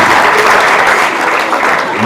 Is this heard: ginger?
no